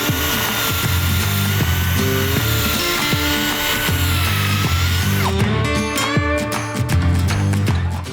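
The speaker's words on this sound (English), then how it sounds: "I'm just making a center point of where we're going to be drilling our hole through." A power drill bores a hole through the head of an old hammer during a restoration, whining steadily at close range with a grinding, shifting pitch and a rattling, choppier stretch toward the end.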